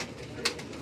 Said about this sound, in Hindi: कबूतर हाथ में रुकना नहीं चाहते जी